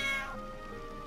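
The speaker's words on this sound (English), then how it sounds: "Oh, it's a cat." A cat in the video game Final Fantasy IX gives one short, fairly clear meow that slides downward in pitch, heard alone.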